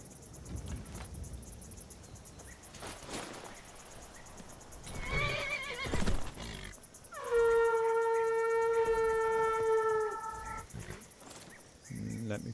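A video game horse gives a long, loud, trilling whinny, preceded by snorts and scattered hoof clops over faint ambient crickets and wind.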